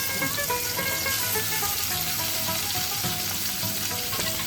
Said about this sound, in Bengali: ওই একইভাবে বাকি মাছগুলো ভেজে নিচ্ছি